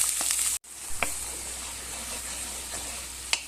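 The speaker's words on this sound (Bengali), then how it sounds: "দিয়ে 2-3 মিনিট এই পেঁয়াজটা একটু ফ্রাই করে নেব" Onion paste sizzling in hot oil with whole spices for a Bengali chital fish muitha, a steady close frying hiss broken by a brief silent gap and a few sharp spoon scrapes.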